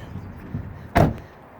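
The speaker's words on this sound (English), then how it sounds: "Manual doors, easy to do." A manual sliding door on a silver 2017 Dodge Caravan SXT wheelchair van rolls and thuds shut once, a single sharp close nearby amid faint outdoor background.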